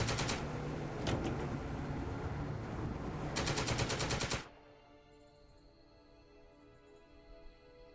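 Machine guns on a Matilda tank firing in the video game Second Front, loud rapid sustained bursts that stop abruptly and leave a quiet low hum.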